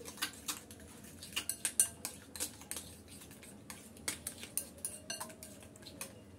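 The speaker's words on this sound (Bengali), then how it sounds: "এখন ভালো করে আমি একটু মিক্স করে নিচ্ছি" Egg batter with chopped onion and ground black pepper is mixed in a bowl, a utensil clinking and tapping against the dish in quick irregular bursts, close but quiet.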